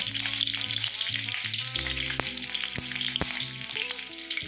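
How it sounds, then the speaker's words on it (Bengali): Nigella seeds and green chillies sizzle loudly in hot oil, a continuous crackling fry with a few sharp pops and ticks, over background music. "এবার এই তেলের মধ্যে কালো জিরে ফোড়ন দেব কাঁচা লঙ্কাগুলো দিয়ে দেব"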